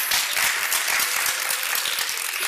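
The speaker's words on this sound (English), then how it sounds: "Give yourself a round of applause." Conference crowd at a women's event claps loudly, a continuous dense round of applause with distinct individual hand claps audible within the wash.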